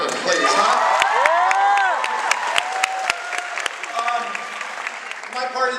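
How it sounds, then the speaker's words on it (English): Audience at a high school teacher talent show applauds in a steady, fairly close wash of clapping, with cheers and a whoop rising over it and voices calling out briefly through the room. "first of all, a nice round of applause from Mr. Griffin, please, huh?"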